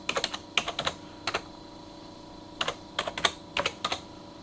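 Bursts of keystrokes on a computer keyboard, quick clustered taps separated by short pauses, close and fairly quiet in a calm room.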